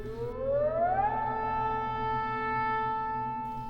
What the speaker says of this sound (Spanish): La sirena sonó de nuevo y la prueba comenzó.